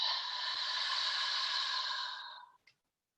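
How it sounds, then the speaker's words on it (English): A long, deep exhale during a gentle morning yoga flow, a breathy voiced sigh held steadily for about two and a half seconds before tapering off into silence. "Take a full exhale."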